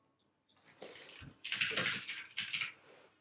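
Someone types on a computer keyboard, a few scattered clicks at first, then a close flurry of quick keystrokes in uneven bursts.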